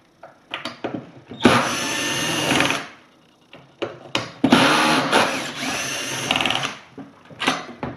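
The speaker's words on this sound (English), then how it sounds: "Take these 4 screws out." A power screwdriver or drill backs four screws out of a Lowrance Hook2 fishfinder box mount. The whirring bursts are loud, close and separated by short pauses, and no one speaks.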